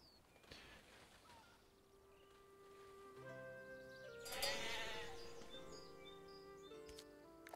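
Sheep bleat in a medieval village game, several drawn-out wavering cries overlapping in the middle, with faint bird chirps and a quiet ambient backdrop.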